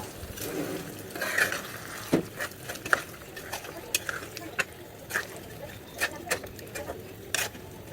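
A spoon stirs fried onion (beresta) into an egg korma in the pan, giving intermittent soft scrapes and knocks against the pot over a faint sizzle, with quiet gaps between strokes.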